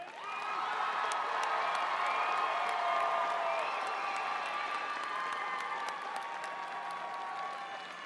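At a high school commencement ceremony, the crowd gives honor graduates a sustained round of applause mixed with cheers and whoops, a full, steady roar that fades slightly near the end.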